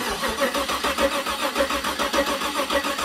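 A freshly overhauled 2015 GMC engine cranking and trying to start on gasoline, a loud, steady rhythmic churning with regular pulses close to the microphone, no voices over it.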